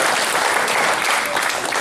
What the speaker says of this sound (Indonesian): jadi tepuk tangan buat pendeta.